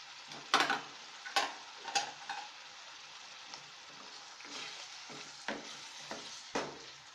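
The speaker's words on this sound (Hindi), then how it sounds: "अब हम आलू डालेंगे।" Potatoes tipped into a hot pan for a chickpea curry, hissing and sizzling steadily while a spoon stirs, with a few sharp scraping clatters against the pan near the start and more spaced knocks later.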